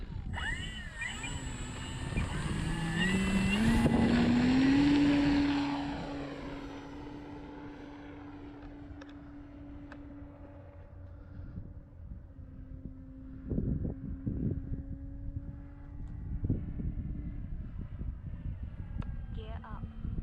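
An Eflite Carbon Z T28 Trojan RC plane flies overhead, its electric motor whine rising in pitch and loudness as it passes close, then fading into a steadier distant drone with wind buffeting the microphone and people talking nearby.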